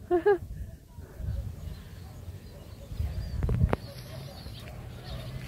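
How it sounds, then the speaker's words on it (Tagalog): A brief, sharp bird call rings out right at the start at a children's farm, followed by quieter outdoor ambience with people talking nearby. "ang daming ibon"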